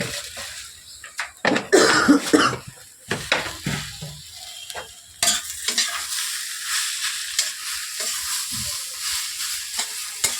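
A spatula stirs and scrapes thick vegetable chop filling in a wok, giving bursts of loud close scraping and sizzling that settle into a quieter steady fry with occasional clatters, with no talking.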